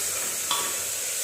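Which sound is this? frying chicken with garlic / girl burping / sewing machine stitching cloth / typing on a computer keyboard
frying chicken with garlic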